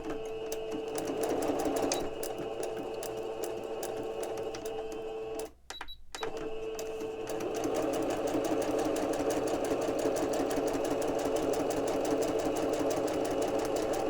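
A sewing machine stitches across the bottom of an ephemera paper piece, a steady rapid clattering hum with a brief pause before it resumes and runs on continuously.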